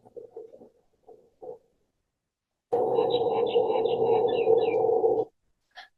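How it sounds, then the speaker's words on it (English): A recorded bird call played back through a speaker during a forum talk: after a few soft murmurs, a loud, continuous warbling, whistling song runs for about two and a half seconds, then a single short chirp follows. "So that was the bird sound."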